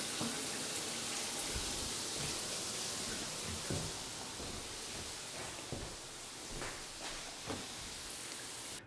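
Steady, dense hiss of water pouring from an overhead metal rain shower head, a continuous heavy spray with occasional small splashes and knocks.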